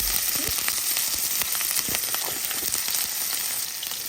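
Onions hitting hot oil in a pan, a bright, steady sizzle with a few crackling pops and soft stirring touches, close and fairly loud, with no talking.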